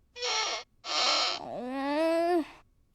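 A pet bird lets out two harsh, raspy squawks, then a longer rising and wavering whistle-like call, close and clear with no voices over it.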